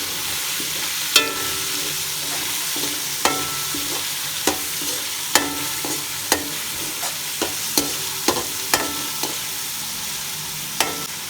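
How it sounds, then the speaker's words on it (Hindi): Chicken pieces sizzle steadily in a pan while a spoon scrapes and clinks against it in regular strokes, close and fairly loud, with no talking. "अब मैं चिकन डालने लगी बोनस। इसको ज़रा थोड़ा सा फ्राई करेंगे।"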